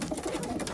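Racing pigeons coo close by in a loft, soft throaty rolling calls overlapping in a brief burst with no talking.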